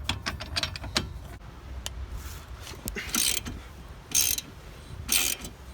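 Hand-turning a manual wheel bearing press tool onto a 1999-2006 Audi TT hub: close metallic ratcheting clicks and scraping thread noise, with a few brighter bursts of grinding metal contact.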